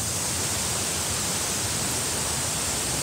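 Shiraito Falls in Nishihara village, Kumamoto, roars as a dense, steady wash of falling water, close and loud, filling the whole moment with no voices.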